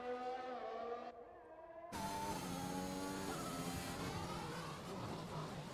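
A race car engine in a racing video game roars on a hot lap around Baku, its whining pitch rising and dropping through gear changes. A brief quieter dip comes before the engine surges loud again.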